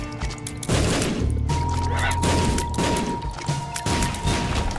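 Repeated shooting in the game The Binding of Isaac: Afterbirth+, heard as loud, heavy thumping blasts at roughly regular intervals over a dense wash of game music and effects.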